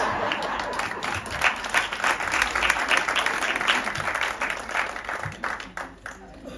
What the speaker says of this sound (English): Another warm round of applause for Malcolm.